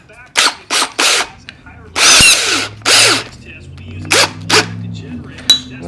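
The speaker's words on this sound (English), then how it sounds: "now we are going to drill a hole through the base" A power drill with a 1/2 inch bit whirs in several short, loud bursts, drilling through a base, stopping and starting, with a voice briefly heard between the bursts.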